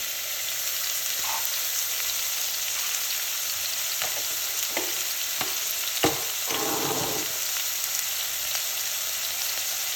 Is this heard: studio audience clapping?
no